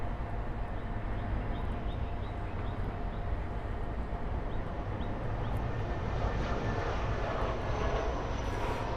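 An Avianca Cargo Airbus A330-200 freighter roars at Miami airport, a steady, broad jet engine rumble at moderate distance that holds without pause throughout.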